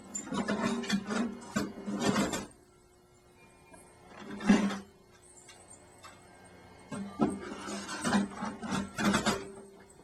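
A Dynafold DE8 paper folding machine, set only to perforate and score paper, runs in bursts of rapid mechanical clatter separated by quiet pauses.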